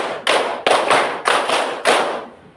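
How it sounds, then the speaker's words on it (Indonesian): Four sharp hand claps, evenly spaced about half a second apart, close and fairly loud with no talking. "Tepuk 1, tepuk 2, tepuk 3, tepuk 4,"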